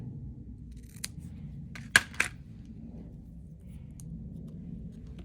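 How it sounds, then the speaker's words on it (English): Scissors cutting a sheet of paper in half during a photo craft project: a few crisp, close snips clustered near the middle, alone over a quiet room hum. "What if we cut this in half?"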